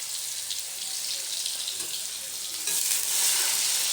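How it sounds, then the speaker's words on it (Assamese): Paneer frying in a pan with steady sizzle and hiss that grows louder near the end, mixed with watery spattering. "মই পনীৰ ফ্ৰাই কৰি আছো"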